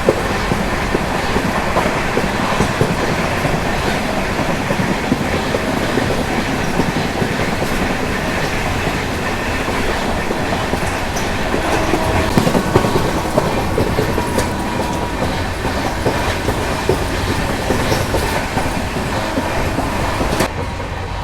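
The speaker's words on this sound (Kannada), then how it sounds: "ನಮ್ದು ಫಸ್ಟ್ ಕ್ಲಾಸ್ ಎ ಸಿ ಒಳಗೆ ನಾರ್ಮಲ್ ಟ್ರೈನ್ ಇದೆ ನಾರ್ಮಲ್ ಎಕ್ಸ್ಪ್ರೆಸ್ ಟ್ರೈನ್" Inside a first-class AC coach of a moving express train, a constant loud rumble and roar carries rhythmic clickety-clack of wheels over rail joints, with occasional rattles and squeaks throughout.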